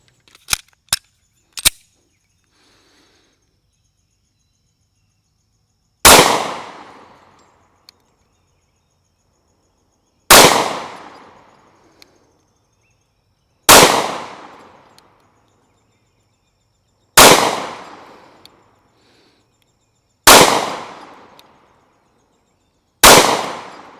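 A Mossberg MC1sc compact pistol fires six sharp, loud single shots spaced a few seconds apart, each cracking report ringing briefly, preceded by a few faint quick clicks.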